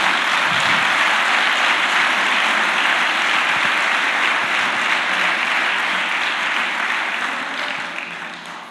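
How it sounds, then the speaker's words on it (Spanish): Church congregation at a Spanish-language service gives loud, sustained applause, dense and continuous, fading slightly toward the end. "Denle un fuerte aplauso a nuestro Señor"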